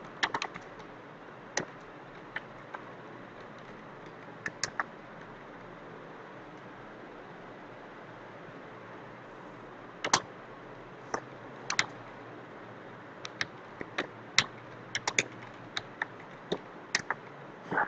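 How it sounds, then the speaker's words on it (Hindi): Typing on a computer keyboard in MS Word comes as sparse, crisp key clicks, sometimes single and sometimes in quick bursts, quiet and close over a faint hum, with no speech. "यहां टाइप करके स्पेस दिया"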